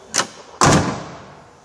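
A 1971 car with a hardtop: a faint latch click, then a solid door thump that rings briefly and fades. No one speaks.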